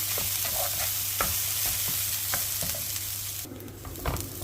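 Bulgur toasts in a pan under occasional stirs, a constant dry sizzle-like hiss broken by soft scrapes and light knocks, close and without voices.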